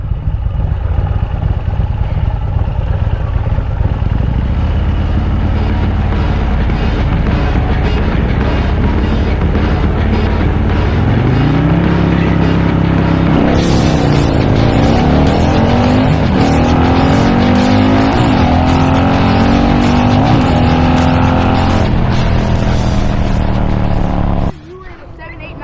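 A Harley-Davidson Bagger motorcycle launches down a drag strip, its engine a loud, dense roar that climbs in pitch through several gear changes before abruptly cutting off near the end, with crowd and track noise mixed in.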